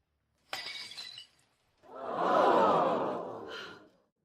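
Glass smashed during a heated wedding confrontation: a sharp shattering burst with tinkling shards, followed after a short pause by a loud, sustained crash and scatter of debris fading out over about two seconds.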